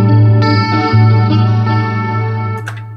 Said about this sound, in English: I think it's basically like a delay after a reverb,